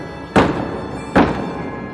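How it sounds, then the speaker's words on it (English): Two heavy thuds of knocking on a front door, about a second apart, each loud and close with a short ringing decay and no voices. "Suddenly, she heard a loud banging on the front door."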